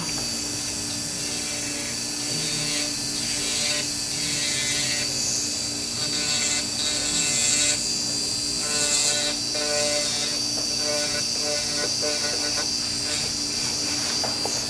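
An electric nail drill bit works along the cuticle during a dry manicure, giving a steady, close, high-pitched motor whine that dips and rises slightly as the bit moves.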